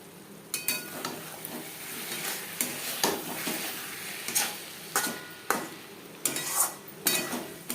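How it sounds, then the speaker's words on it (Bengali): Potato and chicken curry bubbles on low heat in a pan while a spoon stirs it, giving repeated scraping strokes every second or so over a soft simmering sizzle. "এর মাঝে আমি 1-2 বার নাড়াচাড়া করে দিয়েছি"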